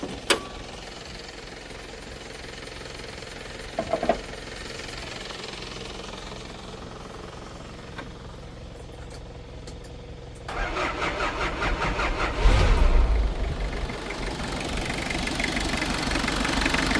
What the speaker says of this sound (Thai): ตัวนี้เปิดเครื่องให้เบิ้งก่อน